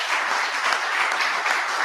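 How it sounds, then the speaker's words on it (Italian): Steady, dense applause from an audience at the official presentation of the Gesteco UEB basketball team, sustained and fairly loud throughout with no voices over it. "vi chiedo un altro applauso"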